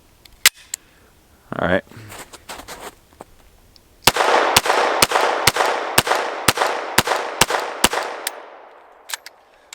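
Rapid string of sharp gunshots from a Glock 44 pistol, about a dozen evenly spaced loud cracks with ringing tails, preceded by a few scattered clicks and a brief spoken remark.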